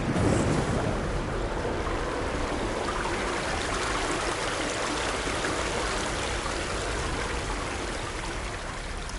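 Steady rushing water in the video game Horizon Forbidden West, a continuous broadband wash like a stream or surf, loud and even throughout with no voices.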